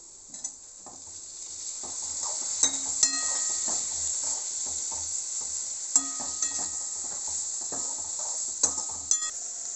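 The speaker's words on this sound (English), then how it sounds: "So now I am adding the peas. These are boiled peas." Boiled peas go into a hot pan of vegetables for pulao, making a steady hiss and sizzle with sharp metallic clinks of a spoon against the pan as they are stirred, and no talking.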